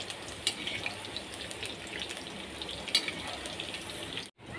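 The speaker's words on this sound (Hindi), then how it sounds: "देखिए गैस की जो फ्लेम है वो हाई है और हम इसको हाई फ्लेम पे ही फ्राई कर रहे हैं।" Cauliflower florets frying in hot oil over a high gas flame, a steady close hiss and sizzle with scattered sharp pops and crackles, alone without speech.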